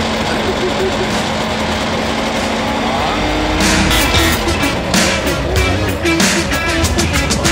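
A Wartburg 353W car engine idling, then revved up with the throttle, rising into louder bursts partway through, with people talking nearby.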